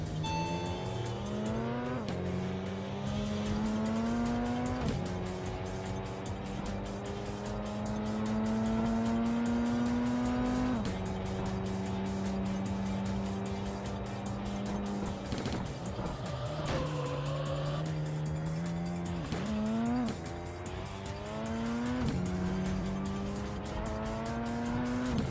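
Mazda RX-7 in the Tokyo Extreme Racer video game revs loudly and steadily, the engine note climbing through gear changes with brief drops, tire squeal and no voices.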